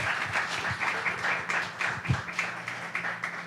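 An evening lecture audience gives a brief round of applause for the people setting up, soft and somewhat distant, with scattered claps and a low room murmur.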